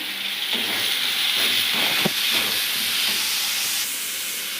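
Chopped tomatoes sizzle in a pan with fried onions and mint for a Tamil-style vada curry, a steady close hiss with soft crackles and a brief stir, no talking.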